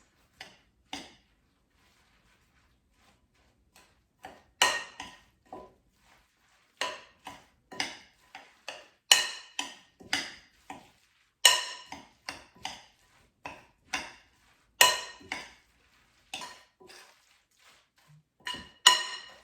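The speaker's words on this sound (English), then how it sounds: "now let's mix up all the ingredients" Irregular clinks and scrapes of a utensil against a bowl while mixing potato pancake batter, sparse at first and then more frequent, close and fairly quiet, with no talking.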